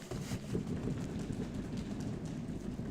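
A church congregation stomping their feet to imitate a rainstorm, a heavy continuous low rumble of many overlapping thuds, like a crowd drumming on a floor.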